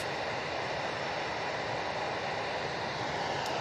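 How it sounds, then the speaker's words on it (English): Airbus A320-200 airliner at Manchester Airport, a steady broadband jet roar holding constant and fairly loud throughout with no voices, like an aircraft passing close on the ground or in the air. "we have the morning Gibraltar service back in the shape of this A320-200"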